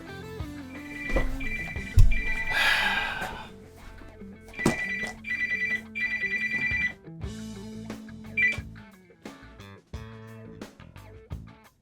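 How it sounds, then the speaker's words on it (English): A telephone rings during a video game battle, its bell-like trill repeating in short bursts over the game's music and effects, fairly clear and close. "There's a phone ringing."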